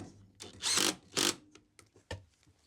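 A power drill or driver sinking screws through a small wood scrap into a floor joist, two short whirring bursts close by, followed by quieter clicks and a brief final buzz.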